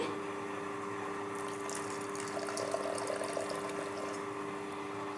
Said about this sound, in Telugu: కొద్దిగా నీళ్ళు వేస్తున్నానండి